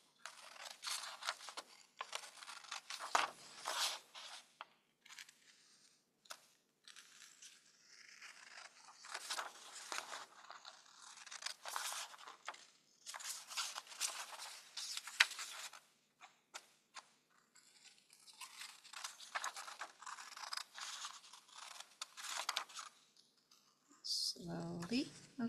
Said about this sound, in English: Follow the line and cut.